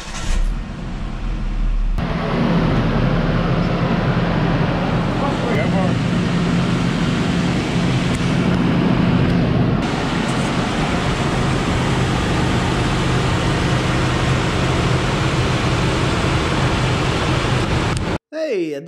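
A Nissan Hardbody pickup engine idles steadily after a fan clutch replacement, giving a continuous loud broadband drone with a low hum and no squeal, running for nearly the whole stretch before cutting off abruptly near the end.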